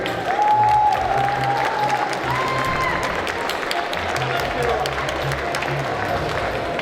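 Convention audience applauding the organizers: dense, sustained clapping from a large crowd fills the room at close range, while a voice speaks over it.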